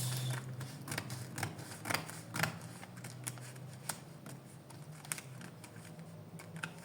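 Scissors snip through fabric while a bubu crop top is cut out, giving a series of short, crisp cutting sounds with uneven spacing against a quiet room.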